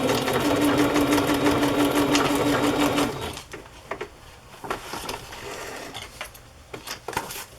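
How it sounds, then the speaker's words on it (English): A sewing machine stitches across a fabric journal pocket, running in a fast, steady whir for about three seconds before stopping. Softer handling and rustling of the fabric follows. "So I'm just going to stitch across that to flatten it out."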